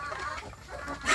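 Kampung chickens cluck softly and continuously at close range while eating leftover rice and feed, with no talk.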